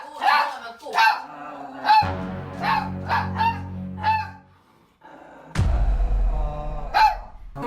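A dog barks repeatedly at people entering the home. The sharp, close yips come in an irregular series, mixed with people talking and some low background rumble.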